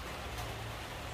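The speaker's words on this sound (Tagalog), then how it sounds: "Raining. Rain, go away." Steady rain falls with a dense, even hiss and no distinct drops standing out, heard in a brief stretch during poor weather.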